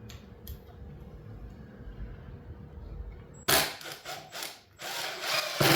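A drill driving 3/4 inch wood screws into wood for a DIY track saw jig: a quiet workshop hum gives way to loud whirring bursts of the driver as the screws bite in.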